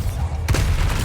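The Bombarda explosion spell from the Hogwarts Legacy video game hits in a brief, loud, booming blast over a dense rumbling battle background.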